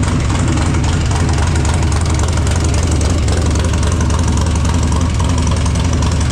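A loud Harley-Davidson Dyna motorcycle engine idles steadily on choke, its low rumble pulsing unevenly throughout with no voices.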